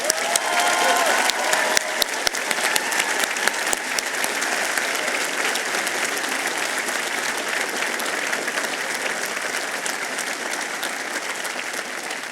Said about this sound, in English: please join me in a round of applause for everyone here who loved and supported you along this journey